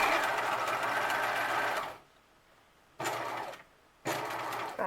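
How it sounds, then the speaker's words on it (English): A sewing machine runs in steady, loud bursts while stitching elastic onto a cloth mask cover, with two brief pauses between the runs. "And then keep sewing down to the end."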